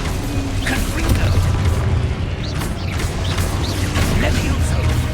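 Confringo fire spell blast in Hogwarts Legacy, a loud sustained booming burst with crackling debris and whooshing layers, dense and continuous over about five seconds amid game effects.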